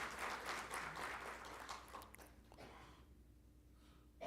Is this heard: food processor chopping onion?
no